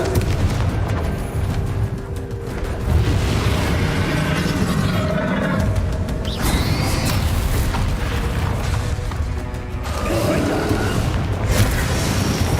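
Spell explosions from Bombarda and Confringo in the Hogwarts Legacy video game, a dense run of booming blasts and crackling impacts under continuous game action, loud and close throughout, with a voice speaking in places.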